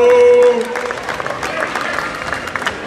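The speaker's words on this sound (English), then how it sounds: "Give him a big round of applause as he steps out here" Crowd at a powerlifting squat competition clapping and cheering during a world record attempt, a burst of applause under an announcer's voice that fades into lighter scattered clapping.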